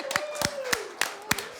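An audience applauds for an MP's mother sitting among them, a sparse run of sharp individual claps at irregular intervals with a faint tone running underneath.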